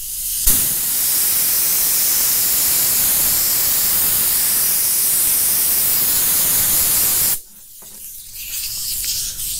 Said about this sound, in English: I'm gonna get the blower so I can blow it off so it'll dry a lot faster